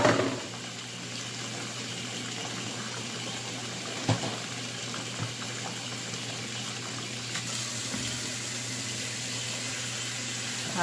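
Hot water runs from a tap into a kitchen sink being filled for washing dishes, a steady broadband gush held for the whole stretch. It is close and continuous, with a few faint clinks and knocks of dishes here and there.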